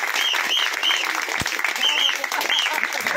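Audience applause greets the lamp-lighting that opens a Karnataka Bank function, a steady dense wash of clapping throughout, with a faint whistle-like tone recurring over it.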